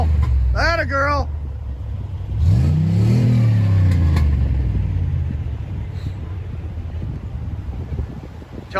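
A pickup truck with a hot motor revs up loudly nearby, the engine note rising and falling as the run goes on, with wind noise across the mic and a short burst of cheering voices just before it.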